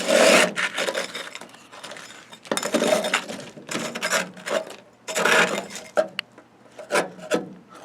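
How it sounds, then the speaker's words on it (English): Tar insulation is scraped off the floor of a 1961 Ford Falcon in repeated rough, rasping strokes, close and fairly loud, with short pauses between each pass. "after just scraping it down a little bit"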